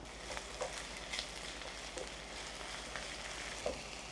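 Ginger garlic paste sizzles in a hot pan for a prawn and chana dal curry, a soft continuous frying hiss with a few light scrapes and clinks from stirring.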